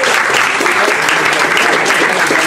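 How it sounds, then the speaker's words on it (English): Applause from a press-launch audience for Ireland's King and Queen 2009, a dense, steady round of clapping filling the short stretch, close and loud, with a trace of voices beneath. "Give yourselves a round of applause."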